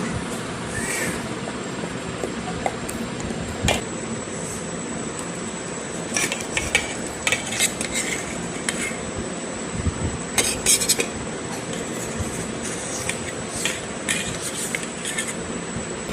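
A knife cuts a baked, almond-topped sweet in a tray. Scattered metallic clinks and scrapes stand out against a faint background hiss, sounding close with irregular bursts of cutting.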